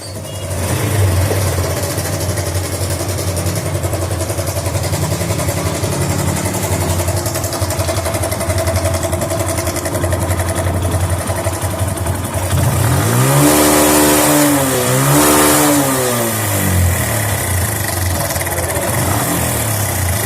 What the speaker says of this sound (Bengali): বাইকটি স্টার্ট করলে বাইকের ইঞ্জিন থেকে একটা বাজে সাউন্ড আসতেছে